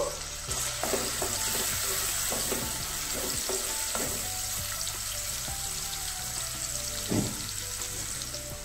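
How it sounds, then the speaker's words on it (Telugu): Finely chopped onion frying in oil in a pan for a village-style mushroom curry, a dense continuous sizzle with scattered scraping stirs and a faint low hum underneath. "సన్నగా తరుక్కొని ముక్కలు దోరగా వేగనివ్వాలి"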